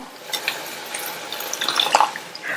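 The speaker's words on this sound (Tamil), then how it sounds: "கொஞ்சமா தண்ணி சேர்த்து நல்லா மிக்ஸ் பண்ணி விட்டுருங்க" Water poured into a pan of simmering curry gives soft splashing and dribbling sounds with a few drips and light stirring, close and fairly quiet, with no talk.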